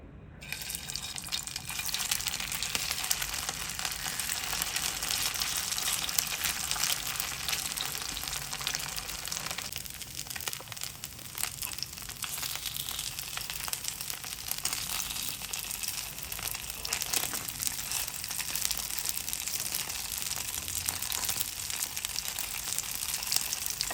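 Sabudana patties sizzle and fry in hot oil, a loud steady crackling hiss that runs unbroken with occasional small pops and scraping, no talking over it.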